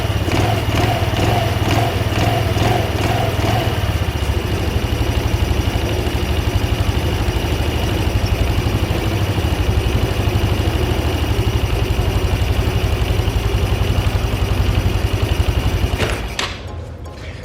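A Honda Elite scooter engine runs with its covers removed, a loud steady close idle with a buzzing mechanical drone throughout, cutting off abruptly near the end.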